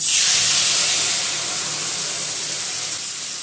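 Spice paste hits hot oil tempered with black cumin in a pan, giving a loud, steady close sizzling hiss that eases slightly as it continues.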